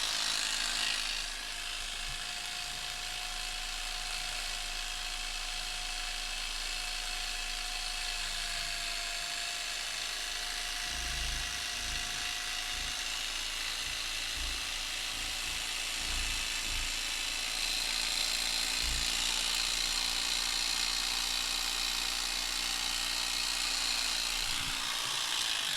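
An electric sheep shaver runs steadily while fringing paper for a Junkanoo pasted frame, a continuous high buzzing whine with clipping chatter and occasional low thumps of the workpiece, fairly close and alone without talk.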